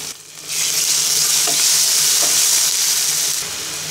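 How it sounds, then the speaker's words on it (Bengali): Onions fry in hot oil with onion and garlic paste, a loud, steady sizzle with the stirring close by and no voices. "পেঁয়াজটাকে ব্রাউন কালার করে ভেজে নেব"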